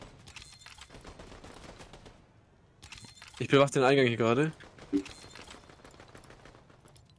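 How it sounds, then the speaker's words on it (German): Gunfire in the video game Fortnite, scattered sharp shots in the background at moderate distance while players talk in German over it. "Ash, hörst du nicht die ganzen Schüsse?"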